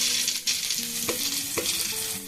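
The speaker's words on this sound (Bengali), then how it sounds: "আর একটু নাড়াচাড়া করে একটু ভেজে নেব" Large chunks of onion with a pinch of white pepper sizzle in a pan while a spoon stirs, with a few sharp scraping strokes over a steady crackling fry, close and clear.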